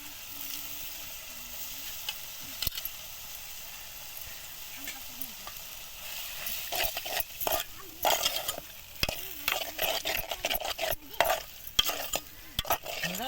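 Tamarind flowers fry with garlic-ginger paste in a pan, giving a constant sizzle. Soon a spoon starts scraping and stirring in quick, uneven bursts, and a faint voice is heard briefly early on.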